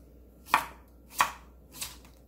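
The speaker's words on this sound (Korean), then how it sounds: "오이 끝부분은 이렇게 잘라주고요" A knife cuts through the ends of a cucumber on a cutting board in three crisp, evenly spaced chops. The cuts are close and clear in an otherwise quiet kitchen.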